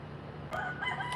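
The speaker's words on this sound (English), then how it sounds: "That's a problem too, that rooster." A rooster crows near a backyard chicken coop, one short, fairly faint call that rises partway through over a steady low background hum.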